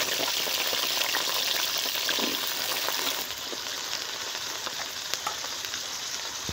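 Potatoes and peas frying in oil in a kadai, a steady loud sizzle filling the whole stretch, easing slightly partway through, with no voices.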